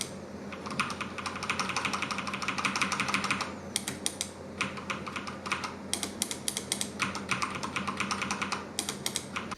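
Typing on a keyboard with Cherry MX Red mechanical switches: a rapid run of crisp key clicks that breaks into separated bursts with short gaps, heard close and with no talking.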